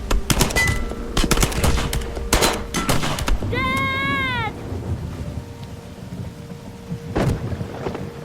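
Loud bursts of gunfire in the video game Heavy Rain, sharp repeated shots clustered at the start with a later single blast, separated by a tonal wavering sound in the middle.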